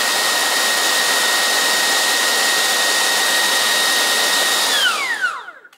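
A Dreame T30 cordless stick vacuum runs with a steady, loud whirring motor and a high whine, then spins down near the end as the whine glides lower and fades, with no talk.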